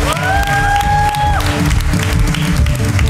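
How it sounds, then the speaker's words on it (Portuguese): Steady applause from an audience at a church youth choir Christmas cantata, dense and loud throughout the room, with a brief sustained tone sounding over it at the start. "Vocês podem aplaudir."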